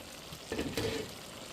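Pinakbet vegetable stew sizzling in a pan over a flame, a soft steady frying hiss with a short louder stirring burst in the middle, close and quiet, no talking.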